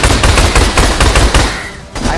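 Rapid, loud gunfire from a shotgun and dual pistols fills a dinosaur-filled video game level. Dense overlapping shots hammer out close and continuous, then break off briefly near the end.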